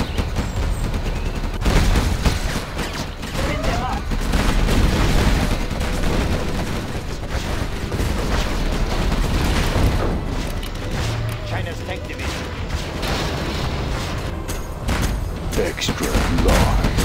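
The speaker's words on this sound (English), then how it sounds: "Rapid fire! Gun barrel spinning." Gatling cannon firing rapidly in the real-time strategy game C&C Generals Zero Hour, a dense, continuous barrage of gunfire and booms mixed with battle noise and unit voice lines throughout.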